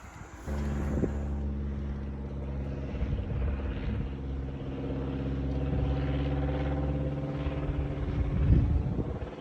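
A 212cc engine for a motorized bike runs by itself on a test stand, a steady, close droning hum with strong low harmonics that swells slightly toward the end.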